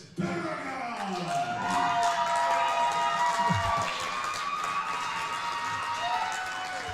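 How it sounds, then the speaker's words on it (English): A crowd at a live wrestling event cheers and shouts continuously, a loud, dense roar of many voices with whoops and yells that holds steady for several seconds. "Crowd seems to be behind Paragon"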